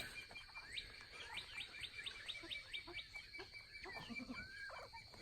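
Homestead chickens at feeding time give a rapid series of high chirping calls, about ten in a row, then a few lower clucks, fairly faint over a quiet outdoor background.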